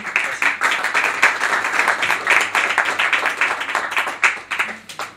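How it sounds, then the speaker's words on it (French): Dense, steady applause from an audience at a public debate on security in Courbevoie, many hands clapping together at close range for several seconds without pause. "Donc on peut l'applaudir."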